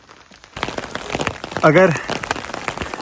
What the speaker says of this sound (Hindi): बारीक ओले पड़ रहे हैं, ओलावृष्टि हो रही है